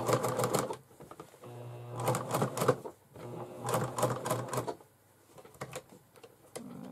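Sewing machine stitching fabric for a bag, running in several bursts of rapid mechanical clatter with short pauses between, close and fairly loud.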